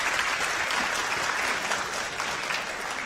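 Sustained, dense applause from a school band concert audience honoring graduating seniors, steady and full throughout with no talk over it.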